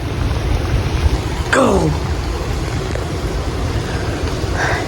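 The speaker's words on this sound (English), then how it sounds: "Yeah, the wind just keep blowing." Strong winter storm wind roars steadily as a broad, loud rush during Winter Storm Finn, with a brief whooshing gust sweep partway through and a single short spoken word.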